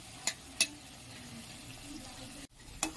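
Chhana (cottage cheese) pieces frying in oil, a low steady sizzle broken by three sharp clinks of utensils and a brief cutoff, heard close and without talk.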